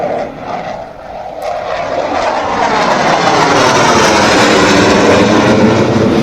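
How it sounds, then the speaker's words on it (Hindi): An Air Force aircraft roars in on a land-and-go drill on the Ganga Expressway concrete airstrip, its engine noise swelling from a quieter start into a loud, sustained roar. "गंगा एक्सप्रेस वे पर एयरफोर्स ने लैंड एंड गो की ड्रिल की।"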